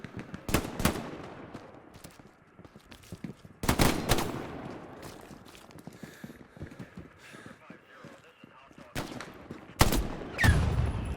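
Rifle shots in the video game Hell Let Loose, a few sharp bursts spaced several seconds apart over a busy background, with a voice talking in between.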